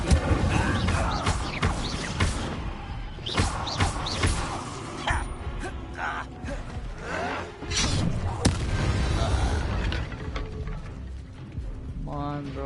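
Fire spell blasts during combat in the Hogwarts Legacy video game, repeated booming bursts and whooshes amid loud battle noise, with a player's voice talking throughout.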